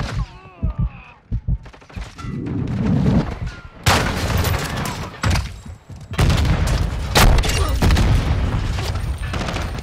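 Gunshots from a slow-firing gun in a first-person shooter game, heard as loud, spaced bursts and booms with a voice talking over the early part.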